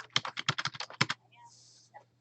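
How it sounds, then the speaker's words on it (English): Typing on a computer keyboard: a quick run of close, crisp keystrokes in a rapid clattering burst, then it stops and only faint room noise remains. "Please excuse me for the keyboard in your ear."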